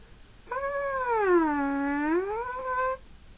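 A trumpet mouthpiece buzzes alone in a single sustained tone that dips in pitch and rises again over about two and a half seconds, loud and close.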